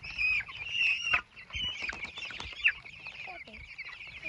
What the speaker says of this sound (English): So chickens are fed, or the meat birds are fed, and Herb walked over